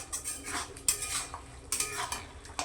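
Mutton being stirred and sautéed in a pan with light oil and spices, a spoon scraping and clinking against the metal in repeated close strokes over a faint sizzle.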